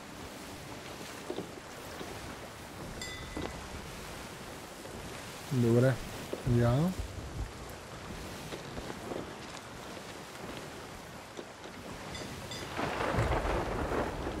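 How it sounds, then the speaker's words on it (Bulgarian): Heavy rain pours steadily on a ship in the pirate video game Sea of Thieves, with a rolling boom of thunder, while players talk over the constant hiss. "Не, дъжда просто пълни кораба."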